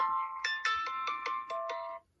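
A ghost-hunting spirit music box app on a phone plays a bright, chiming melody of several quick plucked tones, close and fairly quiet, then cuts off abruptly.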